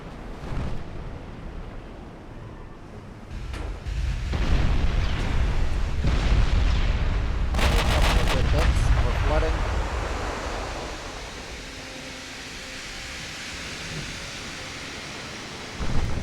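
Naval gunfire from the warship battle game Ultimate Admiral: Dreadnoughts, a loud rumbling barrage with sharp booming blasts from secondary batteries swelling through the middle, over a steady sea-like wash, with some talk.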